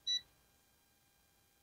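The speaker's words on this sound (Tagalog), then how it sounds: "So, dito tayo sa buzzer test." A multimeter's continuity buzzer gives a single short, clear electronic beep while probing a shorted part inside an LG CRT television, followed by quiet background hum.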